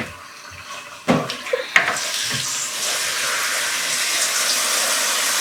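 Tap water runs steadily into a sink while a tilapia with green vegetables is rinsed and washed; after a couple of clattering knocks the broadband rush settles into a continuous, fairly close stream with no talking.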